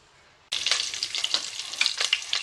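Oil poured into a hot pressure cooker on the stove begins to crackle and sizzle abruptly after a quiet moment, a close, bright, steady frying hiss.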